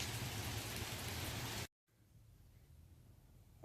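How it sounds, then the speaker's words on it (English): Heavy rain pours down steadily during a storm, a dense, loud hiss that fills the first half, then cuts out abruptly, leaving a much quieter, softer wash of rain. "it's pouring down raining"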